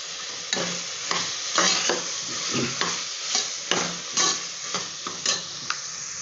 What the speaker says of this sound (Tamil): நல்லா கொஞ்ச நேரம் வதங்கட்டும், அதுக்கு நம்ம வெயிட் பண்ணுவோம்.